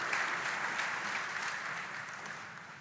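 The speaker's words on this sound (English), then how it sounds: "A round of applause, everyone, for Magnus." An audience applauds at a live-streamed tech event, a dense, steady wash of clapping that gradually tapers off toward the end.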